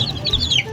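Young chicks (sisiw) drinking and eating give a quick run of high, thin peeps, close and fairly loud, over a soft background rustle.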